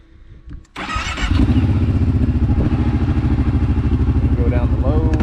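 A Kawasaki Brute Force 750 ATV with a Big Gun exhaust mod cranks and fires up after a few clicks, then settles into a loud, steady, lumpy idle close by.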